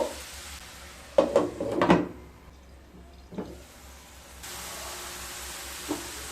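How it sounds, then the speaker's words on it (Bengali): Fenugreek greens cook in a pan for a dhaba-style lasuni methi, with soft sizzling and a few clattering stirs of a spatula against the pan, then a quieter steady simmer. "মিশিয়ে নিয়ে 10 থেকে 15 মিনিট রান্না করে নেব।"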